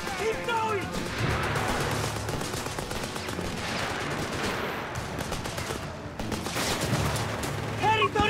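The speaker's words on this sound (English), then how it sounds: "An MG is wasting our time! Guastatori! Regenieri under mortar attack!" Dense, sustained gunfire with machine gun bursts and heavy mortar blasts fills a battle in the World War II strategy game Company of Heroes 3 on the Gazala map, loud and continuous with crashes layered over shouted unit voices.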